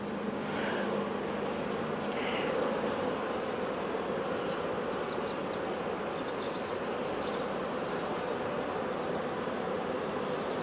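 Honeybees buzz steadily in a hive, a dense, continuous hum that stays even and fairly close throughout with no talk.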